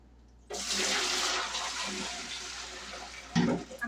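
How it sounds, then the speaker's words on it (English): Water runs while a glass container is rinsed, starting abruptly as a loud splashing gush that gradually softens, then a brief clatter and slosh near the end, close by with no speech. "So I'll clean it, rinse it, and dry it."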